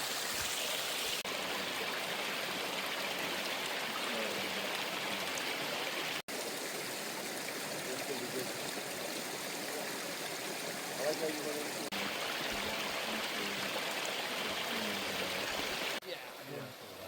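A creek flows steadily down in a gully at McDonald Creek, a loud continuous rushing and babbling of water that fills the whole stretch, heard up close with no voices.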